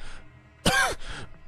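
A voice imitates a cough during a Call of Cthulhu tabletop role-play session: one short, close throat-clearing burst followed by a softer second cough.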